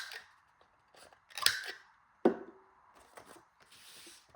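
A corner rounder punch trims the corners of single-sided 12x12 patterned paper for a journal cover, giving two sharp crunching clicks a moment apart plus lighter paper rustles, close and without talk.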